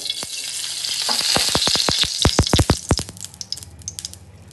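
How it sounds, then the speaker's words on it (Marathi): Ghee sizzles on a hot tawa while aloo paratha cooks, starting as a loud steady hiss and breaking into a burst of sharp crackles and pops that fade toward the end; no voices. "तवा आता गरम झालाय, बारीक करून घेते गॅस. थोडंसं तूप सोडून देते."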